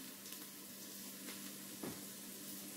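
Onions and garlic sizzle in a Ninja Speedi, a dense, steady frying hiss held throughout at close range, with a soft stir or scrape near the end and no talking.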